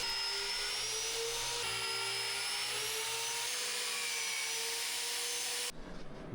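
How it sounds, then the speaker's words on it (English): A drill bores bolt holes in metal to mount the rear air ride suspension on an International Harvester Loadstar truck, a steady high whine held for several seconds before cutting off abruptly, loud and close. "drilling the bolt holes for mounting the suspension"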